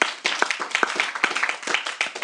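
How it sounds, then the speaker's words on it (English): A small crowd at a recovery convention gathering gives a light round of applause, a sparse scatter of distinct hand claps with uneven rhythm at moderate volume. "Let's give a little round of applause"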